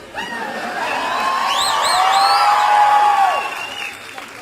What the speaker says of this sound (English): do you other guys want to get a cheer in too?